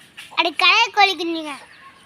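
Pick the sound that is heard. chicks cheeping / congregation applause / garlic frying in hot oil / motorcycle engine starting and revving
chicks cheeping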